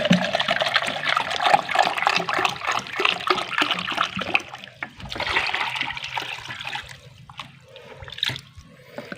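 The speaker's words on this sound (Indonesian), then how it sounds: "kita campurkan dan kita tuangkan air rebusan yang sudah dingin" Cooled boiled water poured from a dipper into a container while making grass jelly with coral stone, a close, continuous splashing trickle that eases off and turns to scattered drips near the end.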